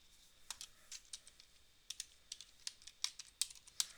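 Typing on a computer keyboard, a run of quick, uneven clicks and key taps up close with no voices.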